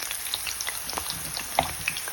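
Rounds of sliced green squash frying in oil, a soft, close sizzle with scattered small pops and crackles over a steady hiss, quiet and brief with no talking.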